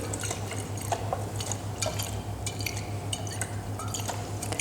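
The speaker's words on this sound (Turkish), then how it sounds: "Koyduğumuz malzemeleri sıkıca kapatarak yavaşça karıştırıyoruz." Liquid disinfectant ingredients are slowly swirled in a tightly closed container, making soft sloshing with scattered light clicks and taps over a steady low hum, all fairly quiet.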